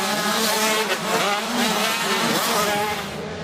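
Race cars roar past during a motor race, a dense, loud engine wash with shifting pitch and faint tire noise, no voices.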